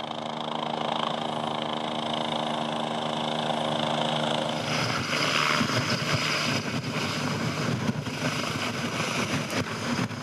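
Mountain rescue helicopter hovering beside a cliff face, its steady rotor and turbine drone loud and continuous, growing rougher and more turbulent partway through.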